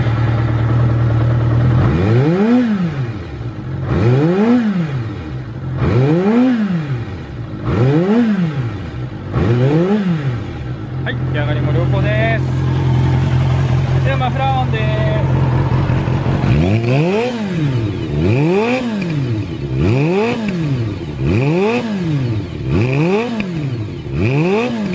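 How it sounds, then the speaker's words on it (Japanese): A Kawasaki Zephyr χ Final Edition motorcycle with a Moriwaki collector exhaust is repeatedly revved near the microphone, with rhythmic rising and falling engine blips, then a short idle gap, then more loud rev bursts. "はい、ではエンジンの方を始動していきます。"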